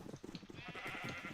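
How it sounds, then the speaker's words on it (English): Sheep bleating in Minecraft, short pulsing wavering calls, faint and close, alone without speech. "We'll just come back in a little bit and shear the rest of these sheep."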